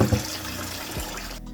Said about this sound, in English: Just leave the tap running on these and leave these for about 4 to 5 minutes just to get all that starch off